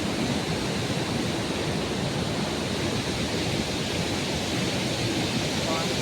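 Water released from a weir gushes down into the Godavari river, a loud, unbroken broadband roar of rushing flow that holds steady without pause.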